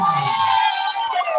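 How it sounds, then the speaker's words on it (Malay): An audience at the Musabaqah Qiraatil Kutub 2023 competition at Dayah Manhajul Fata cheers and claps after a perfect score, a loud, lively crowd roar with shouts throughout. "Boleh tepuk tangan yang meriahnya penonton."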